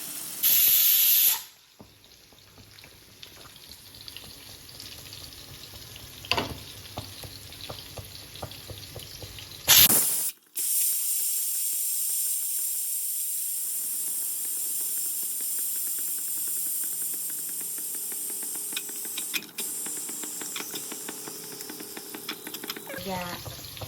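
A pressure cooker cooking biryani blasts out steam in loud bursts, followed by a long, steady hiss that slowly fades, with faint voices nearby.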